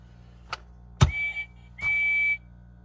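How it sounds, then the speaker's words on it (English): Motorized Thomas and Percy toy trains give off short electronic whistle toots, one brief tone followed by two longer sustained whistles, close and clear against a quiet background. "So they have a different whistle."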